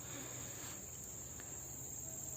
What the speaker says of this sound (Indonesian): kemudian ada jangkrik di sana.